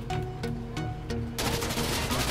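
Rapid gunfire in the video game Insurgency: Sandstorm, a run of sharp shots that builds into a dense, continuous burst of firing in the second half, loud and close with no talk over it.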